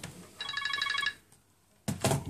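A telephone rings with a rapid electronic trill for about a second near the mic during LG G3 D855 phone repair work, then stops; a short burst of other noise follows.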